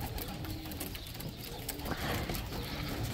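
Racing pigeons coo softly in a loft, a few low throaty calls over faint steady background noise, with no one speaking.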